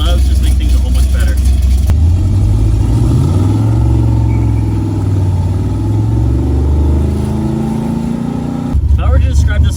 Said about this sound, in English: Let's go ahead and fire up the Cobra.